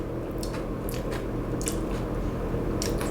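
A crunchy Japanese senbei rice cracker bitten and chewed up close, with several sharp crunching bites over a steady background, no talking.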